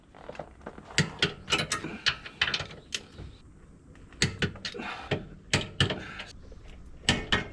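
Bolts tightened with a ratchet on a Toyota Altezza steering rack during a StrongFlex bush install: a run of sharp metallic clicks and clanks in irregular bursts, close and moderately loud, with no talking.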